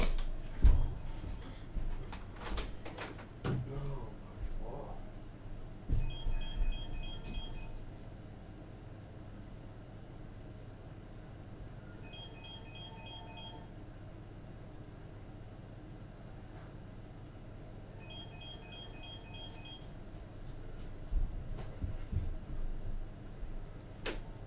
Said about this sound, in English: Sorry about that, my phone was ringing.